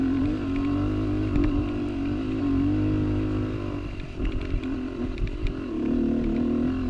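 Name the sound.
dirt bike motor running up a sandy hill trail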